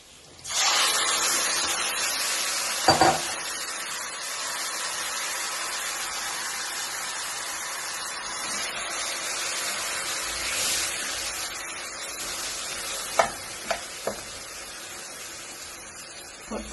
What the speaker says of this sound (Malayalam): കുറച്ച് സമയം ഇതൊന്ന് നന്നായി ഒന്ന് പൊരിച്ച് വെക്കാം